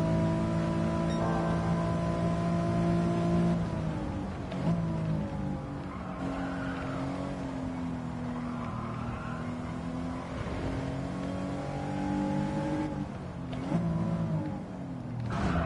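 A race car in Gran Turismo 7 at Goodwood, driven from the cockpit camera with traction control off: a loud, continuous engine drone rises and falls in pitch, with brief tire squeals, and no talking.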